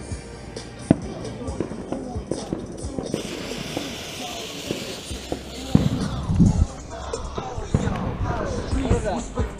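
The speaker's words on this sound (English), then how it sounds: "let's finish our fireworks." Consumer fireworks from a July 4th backyard show, Black Cat, World Class and Cutting Edge brands, pop and crackle in a dense string of sharp reports over steady outdoor noise, with a cluster of louder bangs midway and people talking throughout.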